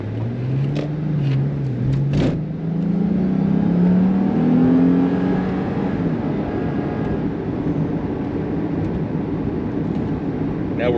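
A Lexus IS250/350 with a Tanabe Revel Medallion aftermarket exhaust revs up from a still-cold engine with a deep, rising exhaust note that climbs steadily, loud and close, the drone continuing as the car pulls ahead.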